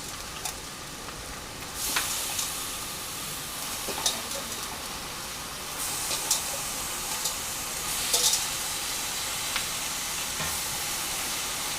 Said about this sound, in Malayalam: നമുക്കിനി ഇതിലേക്ക് നമ്മുടെ ബീഫ് കഴുകി വെച്ചിരിക്കുന്നത് ഇട്ട് കൊടുക്കാം